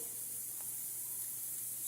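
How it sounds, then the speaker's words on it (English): Steady hissing sizzle of food frying in a hot pan, a constant crackly spray of sound with no talking. "So they've been sizzling, sauteing for a little bit."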